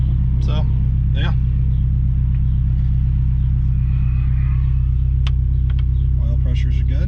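A Subaru STi wagon engine idles just after starting, a loud, steady low rumble held throughout, while a person speaks briefly over it.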